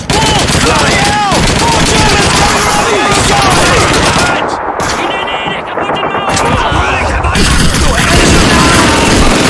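Dense, continuous gunfire from a Call of Duty 2 battle for Caen, with rapid machine-gun bursts and rifle shots layered with explosions. Shouted voices are heard under the gunfire, and it stays loud for the whole stretch.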